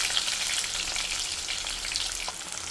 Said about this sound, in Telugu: సో ఆనియన్స్ ఇప్పుడు వేగాలి.